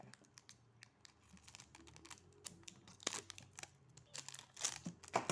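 Scissors cutting through a strip of clear tape for homemade stickers on parchment paper, giving quiet snips and crinkly tearing crackles in irregular bursts, close and fairly faint.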